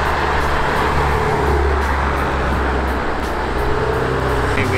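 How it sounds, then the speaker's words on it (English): Trucks and other traffic drive down a road in a steady, loud, continuous roar of engines and tyres close by, with no pauses and no voices. "Boring trucks are coming down here."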